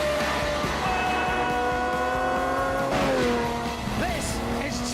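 Lamborghini Huracan driven hard, a loud sustained engine howl with pitch shifts and a short tire squeal toward the end, close and continuous.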